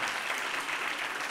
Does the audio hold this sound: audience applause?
yes